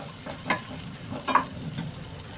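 Corn kernels sizzle steadily in a pan for white pasta while a spoon stirs them, scraping softly in a couple of close strokes over the frying hiss.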